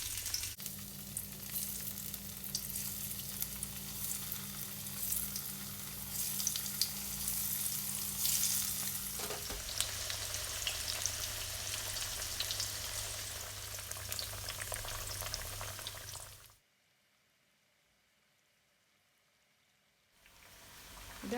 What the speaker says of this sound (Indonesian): tempenya sebagian akan saya goreng